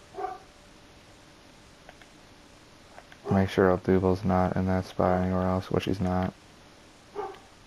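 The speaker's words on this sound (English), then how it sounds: "he's barking like crazy" A pet dog barks repeatedly indoors during an MLB 18 The Show gaming session, with a burst of loud, rapid barks in the middle and fainter single barks before and after, while someone talks throughout.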